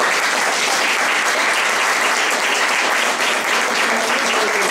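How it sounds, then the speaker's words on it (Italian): Audience at a Christmas choir concert bursts into loud, sustained applause, dense and even throughout with no pause. "mi preme chiedergli un applauso grosso per Pier Antonio."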